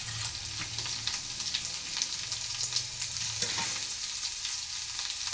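Masala okra (bhendi) frying in a pan and being mixed, a continuous close sizzle with light, irregular scraping strokes of a spatula throughout, no talking.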